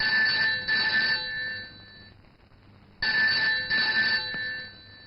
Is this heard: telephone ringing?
yes